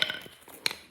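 A hammer strikes a metal workpiece resting on a soft piece of wood, with a few light taps followed by one sharper ringing blow, heard close and alone.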